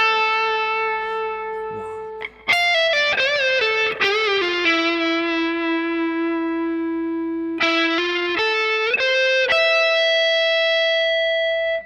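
Electric guitar playing a solo lick with distortion and effects, sustained bent notes, pull-offs and quick runs ringing out clearly and alone for about twelve seconds.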